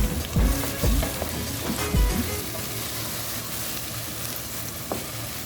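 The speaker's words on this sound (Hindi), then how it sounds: "दोबारा से इसको अच्छे से भूनेंगे" Chicken drumstick white korma masala being sautéed in a pan, a steady sizzle with a few scraping stirs early on, close and alone with no talk.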